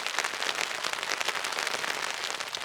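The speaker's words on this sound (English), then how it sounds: "Still raining heavy." Heavy rain pours down on a wild camp in Galloway Forest at night, a dense, steady patter that fills the whole stretch without letting up. No one speaks.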